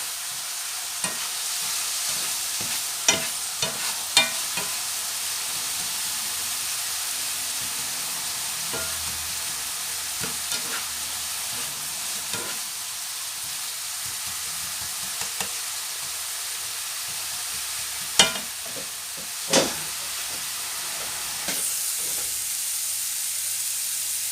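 Food frying and browning in a pan gives a steady, close sizzle, with occasional sharp ticks and scrapes from stirring over the continuous hiss.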